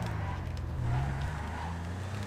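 A race car's engine in a GTA 5 Online race gives a steady low rumble throughout, close and even with slight shifts in pitch and no break.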